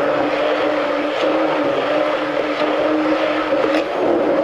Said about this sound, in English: This is a Turbo Brawn blender that I use to puree sauces and of course my herb oil.